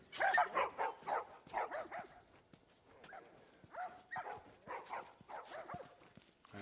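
Dogs in The Last of Us video game bark in a series of sharp, rhythmic bursts, some overlapping, fairly close and moderately loud against a quiet background.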